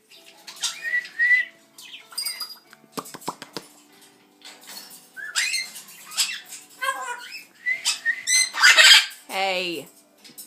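An Amazon parrot squawks and screeches loudly in repeated bursts, mixed with shrill whistles and chattering calls close by, with short pauses between outbursts.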